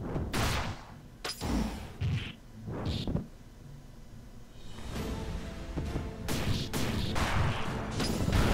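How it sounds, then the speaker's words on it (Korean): A water cannon attack in the GetAmped video game: loud whooshing, splashing blasts in several separate bursts, with impacts and crashes between them over a steady game background. "물대포"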